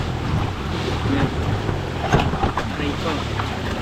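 Boat engine running on a river trail toward a mountain in Rizal, a steady broadband rumble with wind and water noise throughout, nearby and continuous, with faint voices mixed in.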